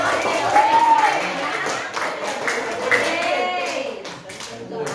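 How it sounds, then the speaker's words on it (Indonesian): A classroom gives clapping for group 4: quick, rhythmic clapping from many hands, partly under voices in the room. "kita berikan tepukan untuk kelompok 4"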